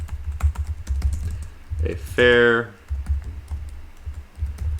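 Typing on a computer keyboard: steady, close key clicks run throughout, briefly interrupted by a short spoken phrase, then continuing at an even pace.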